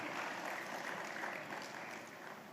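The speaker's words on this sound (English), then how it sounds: "A huge round of applause for Arundhati Bhattacharya" Steady applause fills an awards ceremony hall as a presenter takes the stage, a dense continuous wash of clapping that holds at an even level and eases slightly toward the end, with no voices over it.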